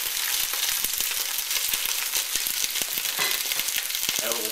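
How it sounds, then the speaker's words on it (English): Oxtails browning in a hot pot, giving a loud, dense, continuous sizzle with crackling pops close up, and a brief tonal clatter near the end. "We want to get these oxtails into the pot, get them browned on all sides."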